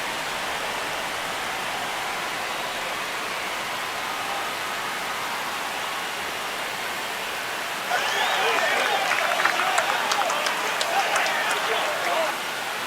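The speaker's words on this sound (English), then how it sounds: "Here comes the crowd." A baseball crowd in MLB The Show 26 gives a steady stadium roar that swells louder about two thirds of the way through, with a commentator talking over it.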